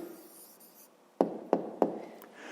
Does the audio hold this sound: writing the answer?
yes